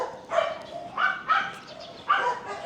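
Dogs barking outdoors along a residential street during a morning walk in Quezon City, Philippines; four sharp, moderately close barks spaced irregularly over a few seconds, with no talking.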